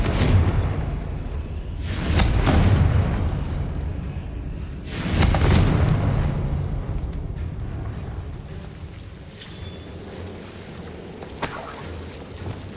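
Confringo explosion spell cast in Hogwarts Legacy, a few heavy booming bursts with rumbling tails spaced several seconds apart, followed by fainter sharp cracks.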